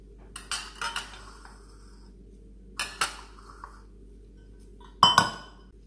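A metal measuring spoon is picked up from among kitchen utensils, giving three separate bursts of bright close clinks and rattles with quiet gaps between them.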